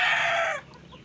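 A rooster lets out the brief, loud tail of a crow up close, cut short and followed by quiet.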